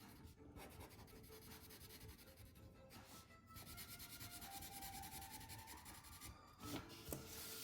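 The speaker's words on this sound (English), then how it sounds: "I am going to Sharpie in the shadow because I like to make it nice and dark" A Sharpie marker rubs back and forth across paper while coloring in a shadow, giving a close, quiet, continuous scratchy squeak with brief pauses.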